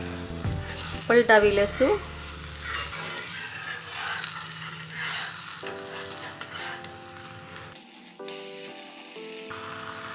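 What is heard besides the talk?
wheat flour pudla frying in oil on a pan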